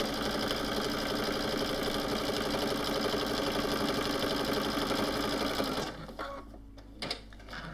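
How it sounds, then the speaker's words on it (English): Sewing machine running a steady, fast stitch through quilt backing fabric, close and continuous, then slowing and stopping near the end with a few soft clicks and handling noises. "I like to start with a little reverse stitch and then just stitching all the way to the bottom edge of the backing fabric."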